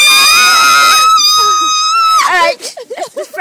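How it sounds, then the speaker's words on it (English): A person screams loudly and continuously on a ride at the Alton Towers amusement park, a long high-pitched cry that fades into excited talk and shouting voices nearby. "Scream on the top of your"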